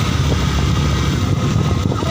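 A Yamaha Fazer motorcycle engine labors up a steep slope with a loud, close, steady drone and no talk.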